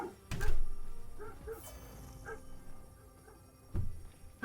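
A dog barking indoors: one loud bark near the start and another toward the end, with quieter whimpering tones in between and no clear talk.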